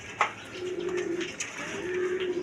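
Big-sized pigeons at a seller's stock cooing up close, soft drawn-out low coos in two separate bouts with light rustling and a small knock at the start.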